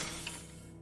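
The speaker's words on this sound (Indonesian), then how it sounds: "Tiba-tiba saja cermin di samping mereka pecah dengan sendirinya dan mengagetkan mereka." A mirror shatters on its own in a film scene, a short bright crash of breaking glass with brief clinking that fades within a second.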